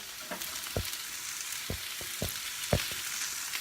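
Onions sizzle in a frying pan with a steady hiss, broken by several sharp clacks and scrapes of a utensil against the pan; no one speaks.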